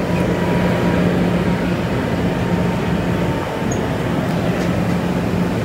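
An MTR cage train runs on the Hong Kong metro, giving a steady, loud interior rumble with a low hum and faint rail squeals, no voices.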